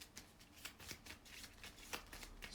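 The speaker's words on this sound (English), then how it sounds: "So we shuffle all this up, and we get to draw our initial hand of 7 cards." Board game cards for a wargame are shuffled by hand in quick, crisp riffles and flicks, several bursts in a row, close and fairly quiet with no talking.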